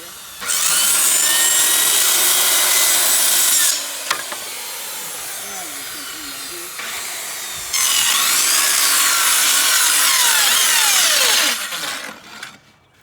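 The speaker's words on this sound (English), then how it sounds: "We'll start by cutting off the excess down here." Power saw cutting excess off a wood header board, two long loud bursts of high whining, rasping cutting separated by a quieter pause, ending as the blade winds down.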